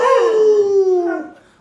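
A pet dog gives a single loud, close howl that slides downward in pitch and fades away at the end. It stands alone, with no speech.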